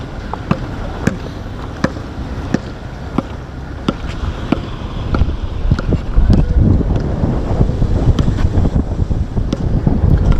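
Gusty outdoor wind buffeting the microphone on a campus, rising into a steady rumbling rush in the second half, broken by sharp ticking knocks and no speech.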